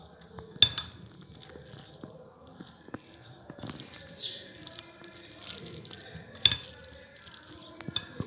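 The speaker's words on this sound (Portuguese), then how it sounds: "Aí você mistura tudo." A salad being stirred and mixed in a bowl gives faint, scattered scraping and soft clicking, with a couple of sharper taps, in a quiet room with no talking.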